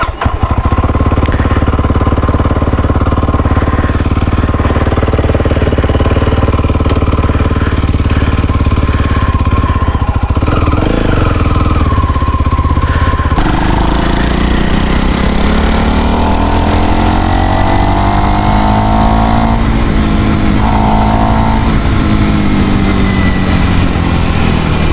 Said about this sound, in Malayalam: എന്തായാലും നമുക്ക് ജസ്റ്റ് വണ്ടി ഒന്ന് ഓൺ ചെയ്ത് നോക്കാം.